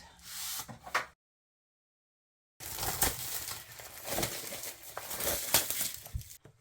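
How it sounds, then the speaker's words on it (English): Crinkling plastic wrap torn off a large boxed tarot and oracle deck set with grimoire, in short bursts of rustling and tearing close by, broken by a long silent pause before more crackling handling. "Okay, I'm going to unwrap it."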